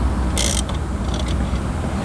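A ratchet clicks briefly while loosening 10mm bolts under the factory radio of a Toyota Camry, one short, sharp burst of clicks close by, followed by a few fainter clicks against a low background hum.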